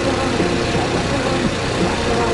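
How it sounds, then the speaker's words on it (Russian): A petrol motorbike engine runs with a loud, steady, continuous drone throughout, with no talk. "поехали на свой вот бензиновый байк"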